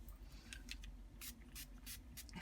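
Faint short bursts of spray-can hiss come in quick separate puffs, spraying over a mask laid on a photo, quiet and close with a soft background rumble.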